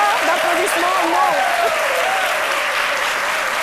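Studio audience on a live Ivorian midday TV variety show breaks into steady applause, dense and continuous throughout, with a voice talking over the clapping.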